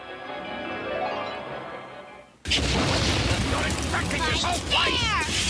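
A burning whoosh erupts from the flame hand plasmid in BioShock as it ignites foes, a sudden loud blast of fire noise after a rising tonal swell, followed by crackling flames and shrill cries, with someone talking over it.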